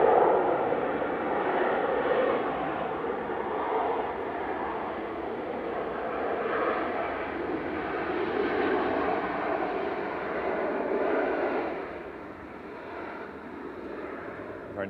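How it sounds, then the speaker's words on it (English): A Ryanair passenger plane landing at Manchester Airport, a loud continuous jet roar that rises and falls slightly and fades a little toward the end, steady with no talking over it. "Very noisy Ryanair landing in the background."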